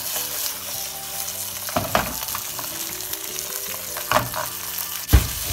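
Sea bream fries in garlic-infused oil in a pan, a constant crackling sizzle punctuated by a few louder scrapes and spatters as the fish shifts, ending in a sharp knock, with no talking.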